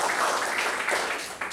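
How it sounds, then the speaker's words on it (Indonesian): Congregation applause in a church service, a dense, steady wash of clapping from a crowd that holds nearly level and eases slightly toward the end. "Tepuk tangan yang meriah bagi Tuhan kita."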